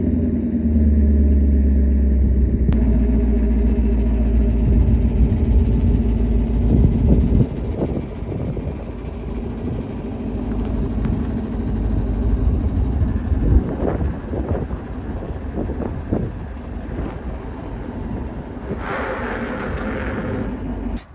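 A 2021 Chevrolet Camaro SS 1LE engine idles and then pulls away off a driveway, a steady low rumble with light wind noise and some scraping and bumping as it moves.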